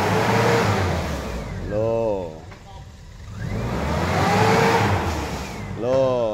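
Toyota Kijang LX 2000 car engine revving in two rising surges with a steady idle between, close by, with voices talking over it.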